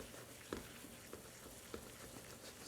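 Bananas sautéing flat side down in cinnamon caramel in a pan, a soft steady sizzle throughout with a few brief clinks of a utensil against the pan, no voices.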